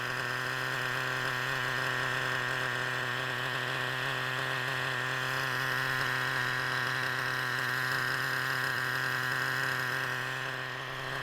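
A nitro RC car engine running on 20% fuel holds a steady, high-pitched buzzing whine with a rich harmonic drone, sustained at a constant pitch throughout, with no talk over it.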